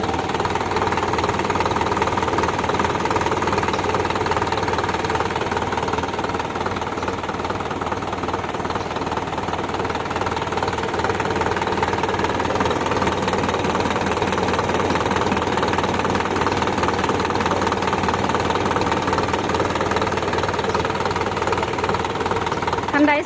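A four-cylinder dump truck engine runs steadily at idle, a loud continuous knocking rumble with a mechanical rattle throughout.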